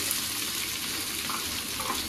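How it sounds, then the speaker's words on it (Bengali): Potato pieces frying in a pan with turmeric and dried coconut powder, a continuous close sizzle and crackle that stays steady and fairly loud throughout, with no talking. "ভাজা ভাজা হচ্ছে"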